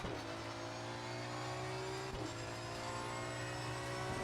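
A big Aston Martin V12 racing car at Bathurst, from a racing video game, drones with a steady loud engine note, held at near-constant revs with a brief dip midway and no talk.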